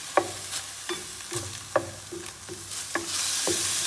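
Chop suey vegetables and other ingredients stir-fried together in a pan, with a steady sizzle and repeated sharp clacks of a utensil against the pan, roughly every half second, close and fairly loud.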